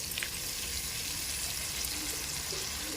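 Moong dal hits hot tempering oil in a pan and sizzles, a steady, fairly faint hissing crackle that runs throughout with no voices.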